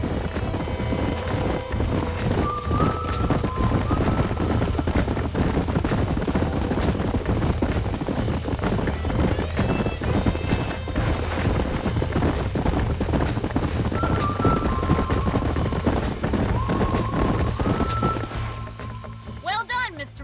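Horses gallop in Red Dead Redemption with a steady, fast clip-clop of hooves that runs continuously and close, with a faint neigh now and then and game ambience underneath, easing off at the very end.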